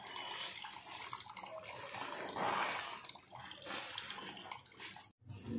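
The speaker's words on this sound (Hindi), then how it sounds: "पेट्रोल टैंक से पानी निकल रहा है" Water pours steadily out of a petrol tank and splashes, soft and close, stopping briefly near the end before resuming.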